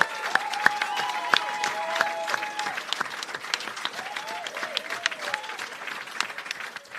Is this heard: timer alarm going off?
no